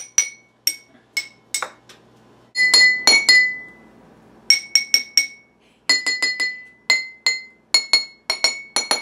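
Glow sticks struck against each other like a xylophone, giving bright glassy clinks and tinkles, some single and some in quick clusters, with short pauses between runs of taps, close and fairly loud, no talking.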